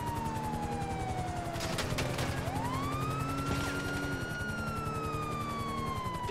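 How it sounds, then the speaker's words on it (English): A police car siren wails in Grand Theft Auto Online, its pitch sweeping up and down loudly and continuously while bursts of gunfire crackle in the background. "Turn on the sirens!"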